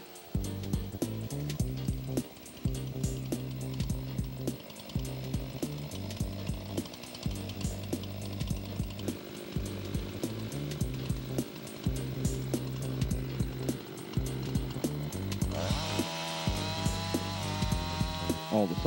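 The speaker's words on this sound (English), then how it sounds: "it's just this easy to use a chainsaw mill to make your lumber" A chainsaw mill rips a log lengthwise into lumber boards, its engine droning loud and steady throughout with a rough, buzzing roar that shifts pitch near the end as the cut finishes.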